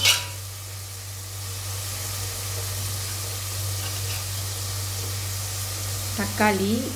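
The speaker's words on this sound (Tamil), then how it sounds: "ரெண்டும் நல்லா வதங்கட்டும். கொஞ்சம் எண்ணெய் பிரிஞ்ச வர அளவுக்கு வதங்கட்டும்." Vegetables sauté in hot oil for a vegetable biryani, giving a steady, soft sizzling hiss over a low hum, with a brief voice near the end.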